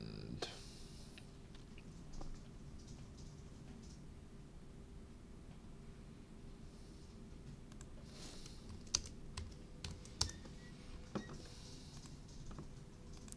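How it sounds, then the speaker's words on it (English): Fingers tap quietly on an American computer keyboard in a steady, faint run of typing clicks, with a few louder keystrokes standing out near the end over a soft background hiss. "Can't get used to this bloody American keyboard."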